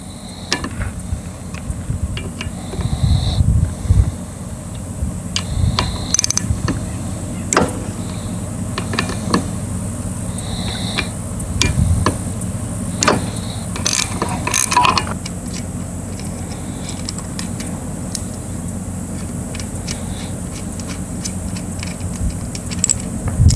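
Wrench work loosening the clutch cover bolts on a Suzuki DR650 motorcycle, with scattered sharp metallic clicks and ratcheting taps at irregular intervals over a quiet workshop background.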